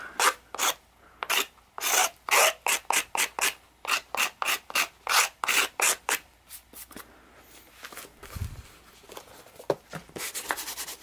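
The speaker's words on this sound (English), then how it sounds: "Want to take off any loose glue that's on the spine. Just scrape it with a knife." A knife scrapes loose glue from a damaged library book spine in a fast run of rhythmic, rasping strokes, close and fairly loud, then slows into irregular scraping and handling noise.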